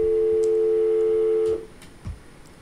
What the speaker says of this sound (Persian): تلفن زنگ میزنه